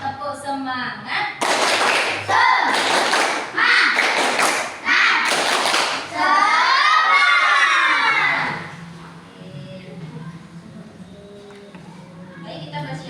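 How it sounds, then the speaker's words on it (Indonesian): A school class claps a counted rhythm pattern together, with sharp group claps in clusters alongside a teacher's voice and children chanting, then the room settles into quieter murmur. "Tepuk 1, tepuk 2, tepuk 3, tepuk semangat"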